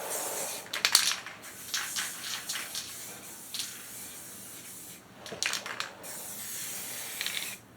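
Short hissing bursts from a low-pressure spray paint can, several separate sprays of varying length with quiet pauses between them, close and fairly soft.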